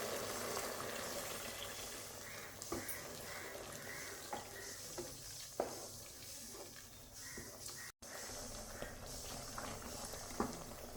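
Cornflour slurry pours into a gently bubbling pan of chilli chicken sauce, with a steady simmer and soft pops and crackles throughout, no voices.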